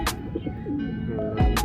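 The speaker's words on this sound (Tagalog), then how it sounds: "sa ating loop. Yan, mga ibon natin." Racing pigeons at their loft cooing up close, a few soft rolling coos and short calls in quick succession, with no talking.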